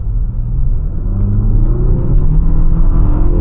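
Inside the cabin of a 2025 Infiniti QX60 VC-Turbo under full-throttle acceleration, a loud, low engine drone climbs steadily in pitch over heavy road rumble, with no talking.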